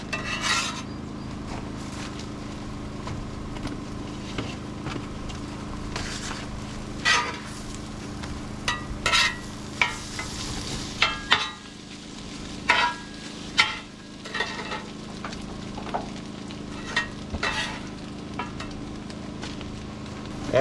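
Leftover pork tenderloin fries on a hibachi griddle outdoors, a continuous low sizzle with repeated scraping and rasping taps from a metal scraper, moderately close.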